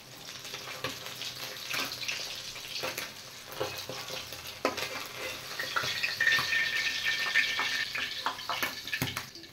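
Tengra fish frying in oil in a home kitchen, a soft, steady sizzle with occasional spatters and the clink of a utensil, fairly faint and with no talking over it.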